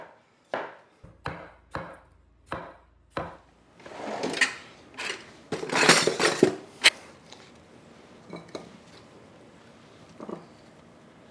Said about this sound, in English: I want to just roughly chop the watermelon